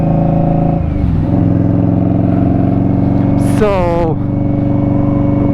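An Indian Scout S motorcycle engine drones steadily and close on a cold-morning ride toward Valley of Fire, with a brief rising rev midway and a voice speaking over it.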